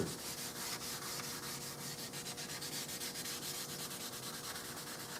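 Sandpaper rubbing back and forth over the wooden stock of a 6.5 Creedmoor rifle, a soft, rhythmic scratchy hiss in steady strokes, fairly quiet and close with no talking.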